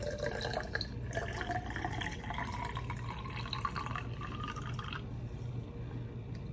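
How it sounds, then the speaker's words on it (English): Vinegar eel culture liquid poured into a container, a steady close trickle and splash of water with faint dripping, running continuously before easing off near the end. "I'll add a good quantity of my vinegar eel to this container"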